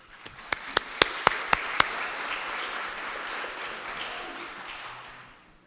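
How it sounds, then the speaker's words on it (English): At a government road show presentation on codes and standards, an audience applauds a speaker's introduction: six sharp, evenly spaced claps ring out nearby, then a softer crowd of clapping continues and slowly fades. "Round of applause, please."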